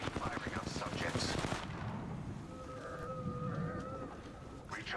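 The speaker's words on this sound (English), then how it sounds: "Shot at. Firing on subjects." Video game gunfire with shots at targets, heard as a dense burst in the opening second and a half, then a steadier rumble with a sustained in-game tone and a renewed burst at the end.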